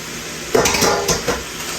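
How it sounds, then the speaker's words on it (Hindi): Dry pasta tipped into a pan of cooked onion and stirred, with a few clinking scrapes of a utensil against the metal pan and a faint sizzle underneath, no talking. "ये लीजिए, मैं अपना पास्ता इसमें डाल देती हूँ"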